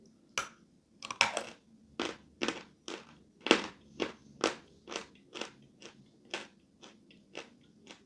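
Sawn chalk is bitten and crunched close up: a series of crisp, separate crunches at a steady, roughly half-second rhythm, each one dry and loud against a quiet background.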